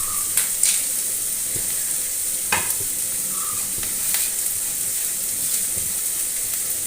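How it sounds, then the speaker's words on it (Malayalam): Grated coconut roasting in a pan, a constant soft sizzling hiss broken by occasional scraping stirs and light clatters of a spoon against the metal. "അപ്പോഴത്തേക്ക് നമ്മുടെ തേങ്ങ നമുക്ക് വറുത്തെടുക്കാം കേട്ടോ"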